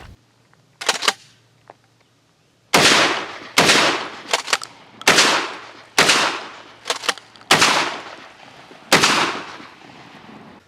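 A DP-12 double-barrel pump shotgun fires birdshot, buckshot and slugs at an outdoor range, with about eight loud, sharp blasts. Most come in quick pairs, and each booming report rings out and fades.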